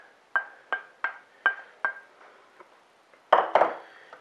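Vegetables dumped into a chicken casserole dish give a run of sharp, evenly spaced clinks and clatters, about six in a row, followed by a louder, denser rattling burst near the end.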